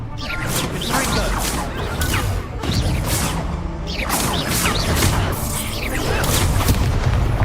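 In Hogwarts Legacy, Confringo blasting spells and other spell impacts keep booming and crashing through a loud, dense battle, with whooshes and voices shouting beneath the constant noise.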